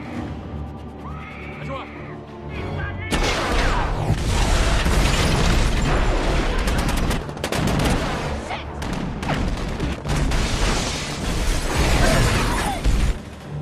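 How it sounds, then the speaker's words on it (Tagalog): Intense gunfight with explosions in a dramatic action scene: dense, loud bursts of gunfire and heavy booms erupting after a brief quieter lead-in, continuing steadily throughout. "Di nagtagal, nabunyag ang kanilang presensya at sumiklab ang isang matinding putukan."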